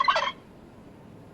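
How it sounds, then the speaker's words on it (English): A single short, bright turkey gobble, loud and close at the very start, then fading into quiet background. "This is a turkey."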